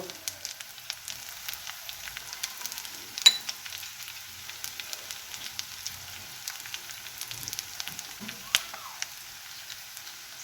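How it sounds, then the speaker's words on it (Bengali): Spice paste of salt, turmeric, coriander, cumin and Kashmiri chilli powder fries with a little water in a pan for pabda fish curry, giving a faint, soft crackle with scattered light pops and ticks. "মশলার মধ্যে একটু আমি জল দিয়ে করে মশলাটা করে নিচ্ছি"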